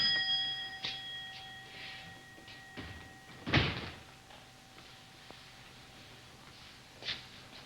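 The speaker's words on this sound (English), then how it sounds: "I could have sworn I heard the bell go twice." A shop door bell rings in a 1961 Coronation Street scene, a faint single chime with a soft door thud midway and quiet ringing tones, recorded at low level in a hushed room.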